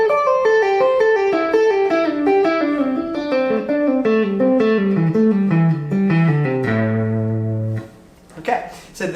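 Electric guitar playing a fast pentatonic lick with legato and hybrid picking, a rapid descending run of clean notes ending on a held low note, played close and alone.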